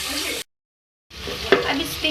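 Ginger garlic paste stirred and frying in a hot pan while chicken balti gosht is being cooked, a steady sizzle with spoon scraping, broken by a brief silent gap, then a sharper clatter as the stirring resumes.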